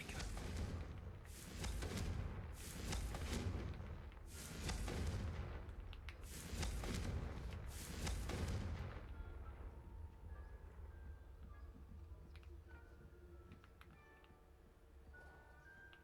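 Repeated booming blasts from the Confringo spell in Hogwarts Legacy, about five heavy bursts in quick succession over roughly nine seconds, then quieter game ambience with faint tones.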